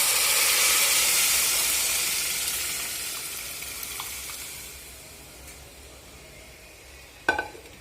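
Cooked mung beans and turmeric go into a hot pan, giving a loud steamy hiss and sizzle that gradually dies down, ending with a single sharp utensil knock.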